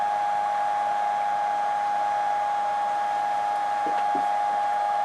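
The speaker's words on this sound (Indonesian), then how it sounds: "level vibrasi untuk kipas yang rusak ini lebih besar" A damaged fan runs with heavy vibration, producing a loud, steady hum with a strong tonal whine that holds constant throughout, with a few faint knocks near the end.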